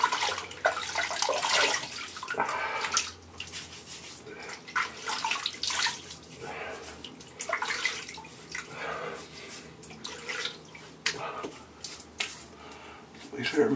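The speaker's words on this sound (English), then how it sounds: "now is wash my face with some hot water" Hot water runs from a tap and splashes as a face is washed for a Merkur 180 DE wet shave, with broadband running-water wash and irregular splashy bursts, fairly close, mixed with intermittent speech.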